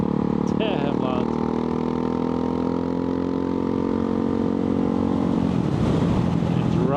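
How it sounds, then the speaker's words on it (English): Ducati Hypermotard 698 Mono single-cylinder motorcycle with a Termignoni exhaust, a loud engine drone held steady close by, with a brief rise in pitch near the end. "That's Termioni exhaust, but it sounds like they removed the catalyst or something like that, but I will check on that because it's damn loud."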